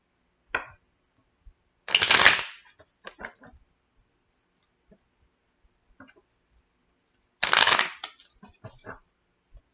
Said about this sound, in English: going to do 5 shuffles for these.